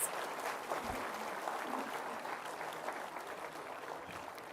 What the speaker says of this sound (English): please join me in the warm round of applause for all our distinguished guests